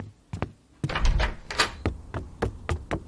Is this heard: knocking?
yes